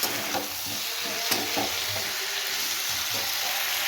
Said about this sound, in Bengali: একটু কষিয়ে নিই ভালো করে